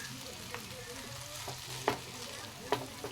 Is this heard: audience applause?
no